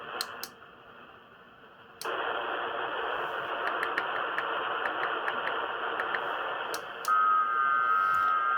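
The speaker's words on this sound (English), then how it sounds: "The dulcet tones of FT8 on 12 meters." Hissing static from a Radioddity QT80 radio tuned to FT8 digital signals on the 12 meter band. The noise jumps louder after a couple of seconds, faint clicks tick through it, and a thin steady tone joins near the end.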